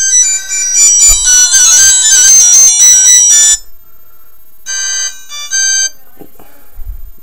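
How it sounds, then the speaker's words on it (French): Loud electronic phone ringtones play one after another, a bright melodic chiming tune, then a shorter different tone after a brief pause. "On va voir un peu le tour des sonneries."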